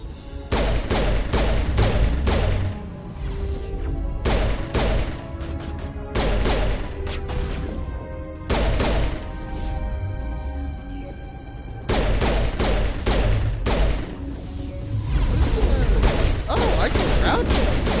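Repeated bursts of gunfire from the player's gun in the Mass Effect video game, loud clusters of shots separated by short pauses, layered over game music and effects.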